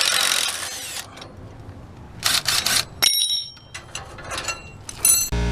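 A power tool works trailer axle U-bolts, with a few short, bright whirring bursts and metallic rattles and rings between quieter gaps, close up with no talk.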